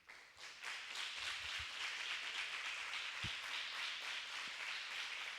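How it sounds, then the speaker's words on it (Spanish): Church congregation applauding after a sermon, dense rapid hand clapping from many people filling the room at a fairly faint, distant level, with a few sharp knocks near the end. "Amén, denle un aplauso al Señor."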